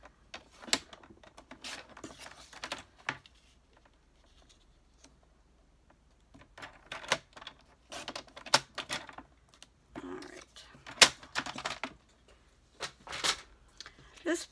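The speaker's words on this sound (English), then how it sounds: "you can either use your scissors or you can use your paper trimmer" A paper trimmer slices through cardstock during a stamping craft project, giving a run of sharp, clicking cuts and slides in short bursts, with quiet gaps between and some faint handling noise.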